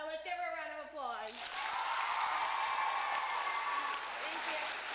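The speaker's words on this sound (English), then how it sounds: "Let's give her a round of applause." An audience in a chapel bursts into steady applause that swells and holds, following a brief spoken voice at the start.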